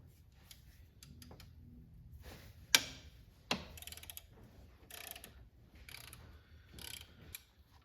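A ratchet wrench with a 13 mm socket works on a belt tensioner of a Land Rover LR3/LR4 or Range Rover engine, making quiet clicking ratchet bursts with a couple of sharp metallic knocks in a quiet garage.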